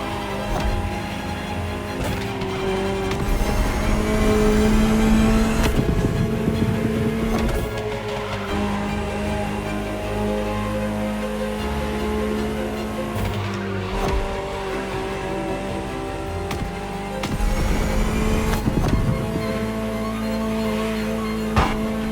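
A Ferrari supercar in The Crew Motorfest racing game, engine droning and shifting through gears at speed, with bursts of tire squeal and skidding, steady and close with no talking.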